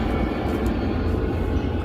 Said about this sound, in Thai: โอ้ยเครื่องบินมา